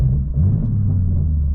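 BMW M2 exhaust with a valved mid-pipe in sport mode, a deep, loud, steady low rumble from the car, with no voices.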